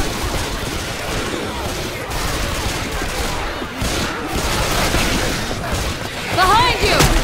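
Left 4 Dead 2 gunfire in an expert-level zombie fight: dense, continuous rattling shots and booms that fill the clip, with shouted character voices over the chaos.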